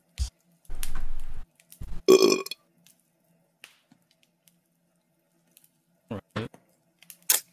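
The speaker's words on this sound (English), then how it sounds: "That sounds like a burp from someone that needs to drink more water." A short, loud burp stands out amid scattered quiet taps and clicks, with a brief rustling noise just before it and a couple of faint knocks afterward.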